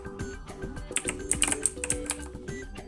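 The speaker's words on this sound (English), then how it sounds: "From here we'll need to type in our programs" Typing on a computer keyboard, a quick run of close, crisp key clicks with uneven rhythm and a few louder taps in the middle, no voices.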